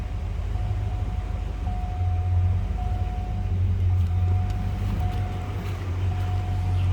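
A 1989 Ford Mustang LX 5.0 convertible, automatic with overdrive and its 5-liter V8 on a mild, non-aggressive exhaust, idles in a steady, even low rumble that carries on without pause, close by and with no one speaking.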